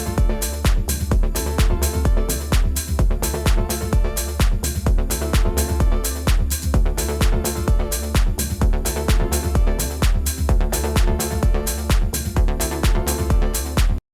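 Driving main-room techno loop with a repeating chord melody stacked over a pounding four-on-the-floor kick and percussion, loud and continuous with no talk.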